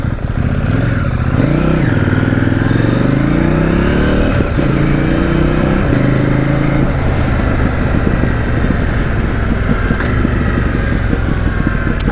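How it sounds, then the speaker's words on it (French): A CFMOTO 800 NK Advanced motorcycle rides at steady speed, its engine droning loudly and close with shifting revs, while the exhaust crackles and pops now and then. "on a cet échappement qui pète là"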